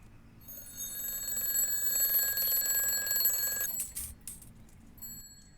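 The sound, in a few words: alarm clock ringing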